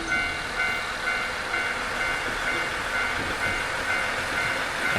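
A steady, continuous rumble of a moving train plays during a train ride in a video game, with an even rolling texture and no speech.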